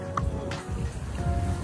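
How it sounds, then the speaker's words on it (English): Distant rain pounds a shore near Labuan Bajo in the Komodo Islands, a soft, even wash of noise with a low rumble beneath and no clear voices. "in the distance, rain still pounds the shore"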